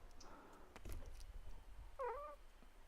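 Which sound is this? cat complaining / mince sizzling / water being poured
cat complaining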